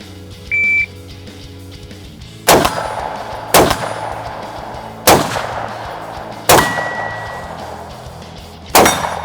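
Radian pistol fired on an outdoor shooting range, five sharp loud gunshots spaced unevenly about one to two seconds apart, each with a short ringing tail, preceded by a brief electronic beep.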